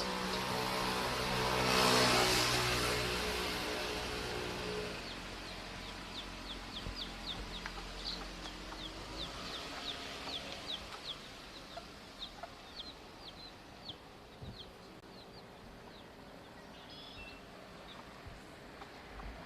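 Soft, repeated clucking of chickens on a quiet Key West backstreet, a brief rush of noise early on, then a string of small regular clucks.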